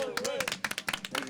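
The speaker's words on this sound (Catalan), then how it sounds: "Un aplaudiment, sisplau." A small audience at a Catalan radio farewell event gives a short round of applause, separate claps close and quick beneath a voice that keeps talking.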